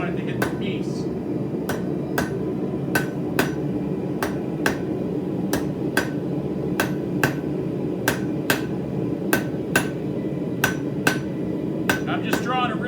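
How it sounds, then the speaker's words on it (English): A hammer strikes hot metal on an anvil in steady, ringing forging blows, roughly two per second, close and sharp, over a low rumbling background with talk beneath. "I don't want my hammer to hit the anvil. I want it to hit the piece."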